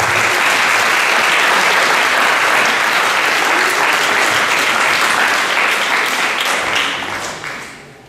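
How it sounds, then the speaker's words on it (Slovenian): An audience at a ceremony in Kamnik applauds the performers with loud, steady, dense clapping that holds for several seconds before tapering off at the end. "In še en velik aplavz za vse nastopajoče"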